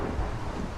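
A stormy, rainy day in modded Minecraft comes through as a low, steady rumble with a dense wash of rain noise, briefly swelling like distant thunder, with no voices.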